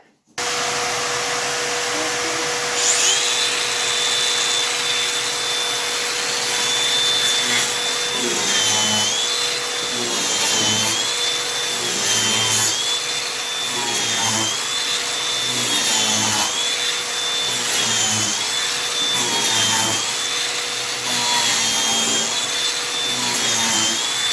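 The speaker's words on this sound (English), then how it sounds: "So I'm going to turn the vacuum on and we'll get this started." A vacuum runs continuously with a loud steady whine while a floor grinder, used after tile removal, drones and wavers rhythmically underneath, sustained for the whole stretch.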